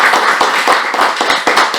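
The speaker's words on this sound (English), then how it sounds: "It deserves a huge round of applause." Toastmasters club meeting audience gives a round of applause, close, loud and continuous clapping from a small group with sharp individual claps audible throughout, no talking over it.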